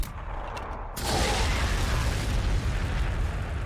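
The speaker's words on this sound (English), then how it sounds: "Let's throw one frag." A frag grenade detonating in Warhammer 40,000: Sanctus Reach, a sudden loud burst after a brief quieter lead-in, followed by a sustained roaring rumble that fills the rest of the moment.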